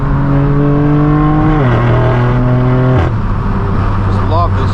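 A straight-piped BMW M4 F82 exhaust booms loud and close while driving, holding a steady drone before two downshift-like drops in pitch, then a rough, raspy idle-like rumble.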